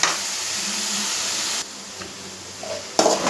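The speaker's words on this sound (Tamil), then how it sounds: "வெங்காயம் தக்காளி எல்லாம் நல்லா வதங்கி வந்திருக்கு" Onions and tomatoes sautéing in a pan give a steady, close sizzling hiss that drops to a quieter simmer partway through before flaring up again near the end, with no talk.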